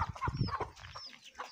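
A hen in a Punjabi village gives short, flustered clucks while being chased, mixed with scuffling and rustling in a brief, close burst.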